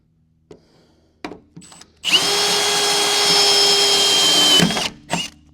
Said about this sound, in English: So we'll keep drilling out spot welds and running our tool up to get this